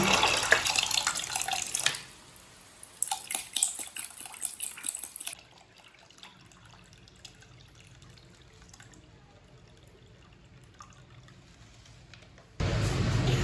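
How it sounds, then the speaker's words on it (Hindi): Cold water poured into a yellow-coloured juice mix, a close splashing stream that comes in bursts, fades to a faint trickle, then returns loudly at the end, with no talk. "आप इसमें पानी डालेंगे।"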